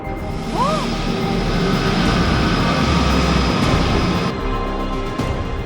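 An airplane engine roars steadily at departure, with people talking over the continuous drone.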